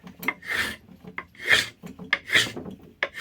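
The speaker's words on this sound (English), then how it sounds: "it's taking nice shavings off this. I'm assuming this is hickory." Steel axe blade shaving a hickory axe handle during restoration of a Germantown hewing axe, a series of rasping strokes, close and fairly loud, with short pauses between pulls and no talking.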